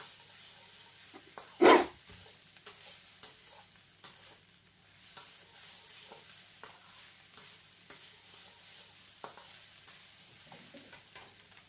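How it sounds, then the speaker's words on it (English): Egg fried rice is stirred in a hot pan: a steady sizzle with repeated scraping and tossing strokes, one sharp loud clank early on. "Give it a good stir, and then what I'll do is I'm going to put the rice in the centre of the pan again"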